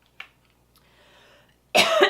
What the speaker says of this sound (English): I have been coughing ever since